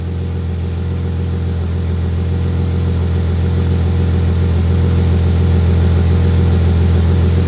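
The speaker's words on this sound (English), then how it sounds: "You give it some revs." A warmed-up BMW E9X 328 engine runs loud and steady close by, a deep droning rumble with a throbbing pulse that holds at a constant pitch throughout.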